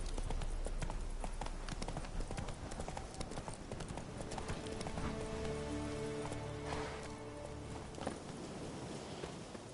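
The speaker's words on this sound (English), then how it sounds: "Run, Roach." Hooves of Roach, a horse in the video game The Witcher 3, clip-clop in a fast, steady galloping rhythm, close and clear, with game ambience and a brief voice underneath.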